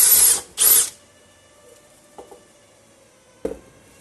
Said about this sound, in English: a 6mm wood drill that I'm gonna use for right in the corner there